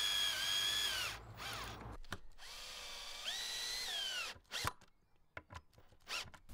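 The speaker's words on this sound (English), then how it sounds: "I just secure them in place with a few screws." Cordless drill driving screws to fix wooden trays onto a ladder plant stand, several rising and falling whines up close, with brief pauses and clicks between screws.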